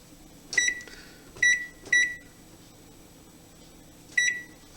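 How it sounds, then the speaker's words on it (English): A kitchen timer being set in a homebrewing setup gives four short electronic beeps, two close together, then a pause before a last one, sharp and close over a faint room hum with no talking. "Set our timer."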